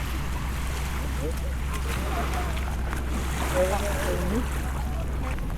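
An island-hopping boat's motor drones steadily over wind and the wash of sea water off Calaguas Island, with faint voices in the background.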